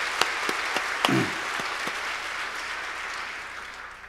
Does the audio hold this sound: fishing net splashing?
no